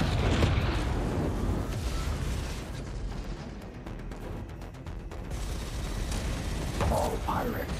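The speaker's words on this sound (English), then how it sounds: "I saw two explosions." Explosions in the sci-fi space shooter game Chorus, played on PS5, rumble as dense booming bursts over a continuous roar of engines and combat, loud throughout with a couple of sharper pops near the end.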